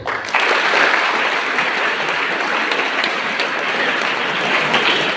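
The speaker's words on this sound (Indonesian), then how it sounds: "tepuk tangan buat Kisol ya" A school audience at Seminari Pius XII Kisol in NTT applauds after a governor's speech, a loud, sustained burst of clapping that starts abruptly and holds steady.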